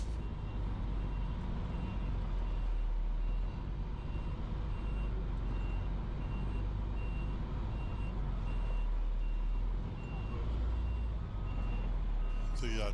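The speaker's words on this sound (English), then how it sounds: "Positioning the truck to back up to where I'm going to dump the demolition debris." A large truck idles and maneuvers with a steady rumbling engine while backing up to dump demolition debris on soft dirt, a faint repeating reverse beep sounding over the low drone.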